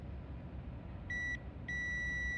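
A multimeter on continuity setting beeps while probing microSD card pins: two steady electronic tones, one brief and one longer, over a faint hum.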